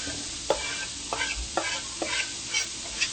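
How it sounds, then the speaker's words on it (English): Onions sizzle steadily in a hot pan while a utensil stirs them, scraping at a regular pace of about one stroke every half second, close and clear with no talking. "Now we're going to let these onions kind of cook up and turn clear."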